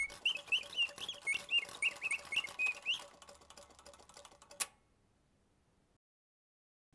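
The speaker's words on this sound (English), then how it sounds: "On the top, a golden rose opens to release the singing bird." An antique singing-bird automaton mirror, where a golden rose opens to release a mechanical bird, trills a run of rapid warbling chirps for about three seconds before the mechanism winds down with a click and goes quiet.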